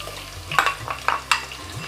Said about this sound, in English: saute until the onions becomes translucent